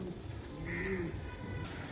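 A Pakistani Lal Dom pigeon, a red variety sold as a pair at a market, gives a soft, low coo over a steady murmur of background noise, faint and partly buried.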